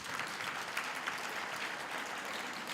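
A graduation audience at Walter Sisulu University applauds the choir, dense steady clapping from a large crowd heard at a distance, sustained evenly throughout with no talking over it.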